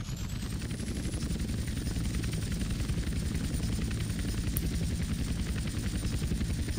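Helicopter in the video game GTA San Andreas Definitive Edition, a loud, steady rotor thrum with rapid blade chop and a constant high engine whine throughout.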